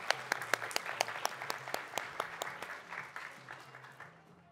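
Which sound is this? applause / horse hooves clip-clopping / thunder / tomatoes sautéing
applause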